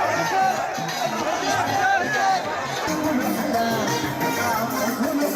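A dense, tightly packed crowd presses around the president of the Republic on an avenue, a continuous loud hubbub of many voices and cheering chatter with no pauses.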